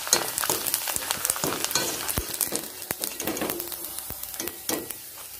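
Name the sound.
frying food sizzling in hot oil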